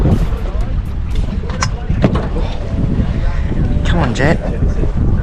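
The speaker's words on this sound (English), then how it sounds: "It's a bit windy" Wind gusts outdoors on a river boat during a fishing trip, a rough low rumble across the microphone that stays loud throughout, with people talking briefly over it.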